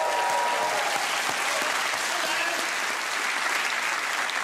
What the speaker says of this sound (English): Let's have another round of applause for tonight's guest judge,